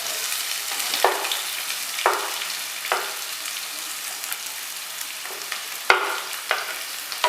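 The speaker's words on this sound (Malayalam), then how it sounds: "അപ്പോൾ ഇനി നമുക്ക് നമ്മളുടെ ഉള്ളി ഒന്ന് ഇട്ട് കൊടുക്കാം." Onion fries in a pan for a vegetable cutlet masala, a steady low sizzle broken by about half a dozen sharp scraping stirs at irregular intervals, no talking.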